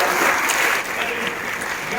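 Audience applause for Liam, the winning young conductor, at a Queensland Conservatorium performance in Brisbane City Temple, a steady dense wash of clapping that fills the whole moment at even loudness.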